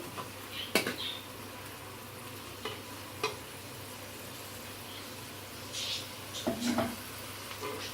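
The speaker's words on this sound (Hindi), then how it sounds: "प्याज को ऑयल में अच्छी तरह से फ्राई होने दें।" Onions frying in oil in a pan for an aloo palak curry: a soft, continuous sizzle with a few quiet clicks and scrapes of a stirring spoon, and a brief louder rustle near the end.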